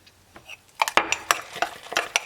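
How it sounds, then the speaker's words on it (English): A spoon mashes ripe bananas in a bowl, a series of close, uneven scraping taps and soft squelches in quick succession. "I'm just using a spoon to mash it down"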